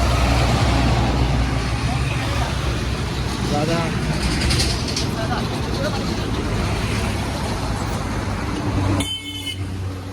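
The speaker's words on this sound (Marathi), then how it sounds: "बघा थोडं घासून गाड्या चालल्या. किती जवळून गाड्या चालल्या." Road traffic rushing very close past pilgrims walking on a highway roadside, a loud steady roar of passing vehicles with a brief horn toot and a voice calling out briefly.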